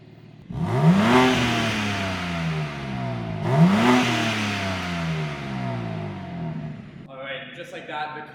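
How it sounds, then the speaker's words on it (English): BMW M4 G82 engine with the stock OEM exhaust, revved twice in quick succession, each rev rising sharply then falling away, followed by idle and a brief clatter at the end. "We're gonna get some revs. We're gonna hear what it's like with the OEM exhaust on"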